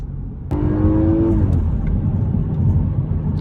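An Audi A5 engine revs up sharply with a rising whine, then drops back to a steady idle rumble, close and loud, at night.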